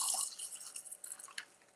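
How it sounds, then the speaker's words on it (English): Lemonade is poured into a glass half filled with ice, making a soft, hissing trickle with small crackles and clinks as ice settles, close by and quiet. "And I'm going to pour."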